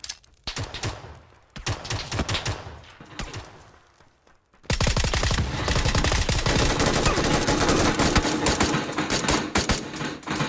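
Machine gun fire in PUBG on Erangel, rapid bursts of close, loud shots that pause briefly, then a long sustained stream of fire.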